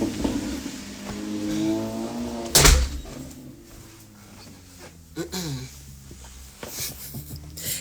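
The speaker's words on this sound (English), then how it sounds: "Let me close the door." A door closing indoors: one loud thud near the middle, framed by a man's speech before and after it.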